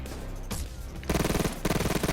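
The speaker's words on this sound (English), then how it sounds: "the Mac 11 has such a high rate of fire and is also very accurate for a medium damage SMG" A Mac 11 submachine gun firing in the heist shooter Payday 2, two fast, loud full-auto bursts with a very high rate of fire, separated by brief pauses and alone without talk.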